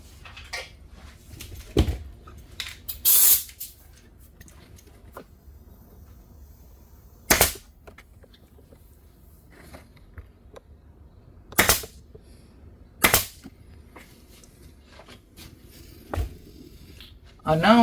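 A staple gun fires staples into the interior door panel of a Toyota Tundra TRD CrewMax, giving several sharp, separate snaps spread out over a quiet background.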